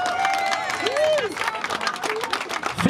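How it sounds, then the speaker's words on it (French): An audience at a French prize-giving event applauds in a burst of fast, dense clapping, with a voice talking over it. "Allez Emilien, on les applaudit."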